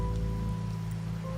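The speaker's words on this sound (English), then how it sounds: "Rain's back." Rain in the video game Wuthering Waves falls as a steady, even patter on surfaces, heard alone beneath a low sustained musical drone.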